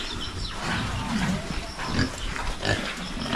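Pigs kept on a farm grunt and squeal in a busy, continuous chorus close by, with several overlapping animal calls and a voice speaking faintly among them.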